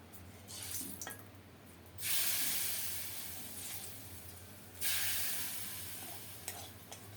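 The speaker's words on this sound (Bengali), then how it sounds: "তেল গরম হলে একটা শুকনো মরিচ গোটা জিরা ফোড়নে দিলাম" Dry red chili and whole cumin hit hot oil as a tempering for a bottle gourd dish, giving a soft, fairly faint hissing sizzle that surges in two bursts and then tapers, with no talking.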